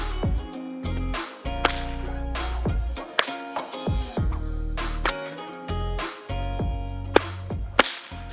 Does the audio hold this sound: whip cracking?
yes